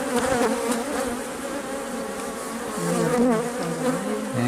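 Honeybees hum steadily at an opened hive, a dense, continuous drone close by that swells slightly toward the end, with no voices over it.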